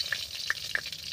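Dried red chillies sizzle in hot oil in a pan, with short crackling pops repeating at a quick, uneven rhythm over a steady close frying hiss.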